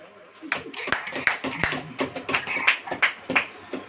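An audience at a sermon claps briefly after being prompted, scattered uneven hand claps at moderate level mixed with voices.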